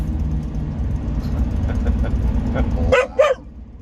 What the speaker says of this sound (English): So he changes the tone of his bark.